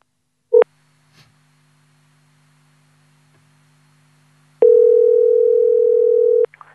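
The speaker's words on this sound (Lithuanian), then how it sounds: "Ir jau renkame telefono numerį." A telephone line sounds while a hotel number is being dialed: a short tone, a quiet stretch, then a long, steady, loud dial tone that cuts off abruptly near the end.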